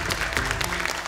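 Studio audience applause for contestants at an Indonesian Quran memorization competition show, a short, steady burst of dense clapping with light cheering underneath.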